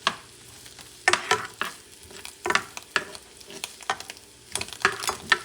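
Chopped onions and cilantro sizzle in melted butter in a pan for a shrimp sauce, a steady soft fry broken by repeated louder bursts of stirring and scraping.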